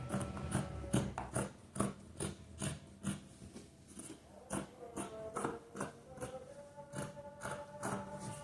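Scissors cut through fabric for the back piece of a mini cargo skirt, giving a close, steady run of crisp snips in a regular rhythm, about two per second.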